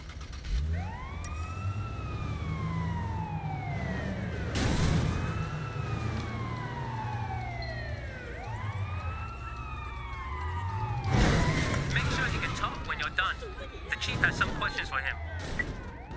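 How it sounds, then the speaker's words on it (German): Ambulance siren wailing in the Sleeping Dogs video game, repeated rising-falling sweeps close by over a low engine drone, with bursts of crashing noise and someone talking. "Und da kommt schon der Krankenwagen für die Idioten."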